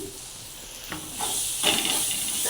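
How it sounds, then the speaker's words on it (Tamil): Onions sautéing in a pan for a tomato thokku, with a steady bright hiss of sizzling and a few louder bursts as they are stirred, close and alone. "நல்லா வெங்காயம் வதங்கி வரட்டும்"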